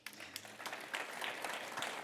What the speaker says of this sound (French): vous pouvez les applaudir dès à présent